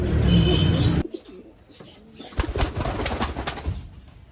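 Pet pigeons or doves coo and flutter close by. A loud burst of noise opens the clip, then soft coos follow, and a rhythmic run of calls with wing sounds fills the second half.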